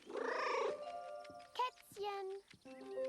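Kitten meowing in the video game Memories Retold, several short tonal mews in a row following a louder purring, raspy cat sound, close and clear with game music underneath.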